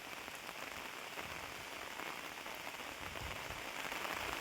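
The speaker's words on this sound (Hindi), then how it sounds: "आप देख सकते हैं कि बारिश भी काफ़ी तेज़ हो रहा है" Heavy rain pours steadily over a maize crop, a dense continuous hiss of drops drumming on surfaces, close and loud throughout with no voices.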